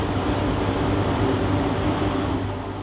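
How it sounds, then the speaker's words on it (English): Wax and grease remover hisses steadily from a spray can onto a freshly Scotch-Brited airbrushed tank part in a workshop, a continuous close broadband spray that fades slightly at the end. "So just spraying a bit more wax and grease remover on that"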